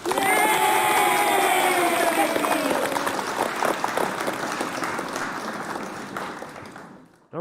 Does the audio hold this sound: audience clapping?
yes